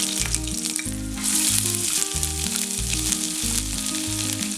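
A tablespoon of crushed ginger and garlic sizzles in a quarter teaspoon of sesame oil, a steady crackling hiss over a low, rhythmic musical backing.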